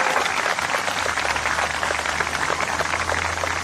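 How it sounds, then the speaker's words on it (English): Applause from a band concert audience, a steady wash of many hands clapping at close range, continuous and even throughout with no speech. "Another round of applause for Courtney Huffman Frye."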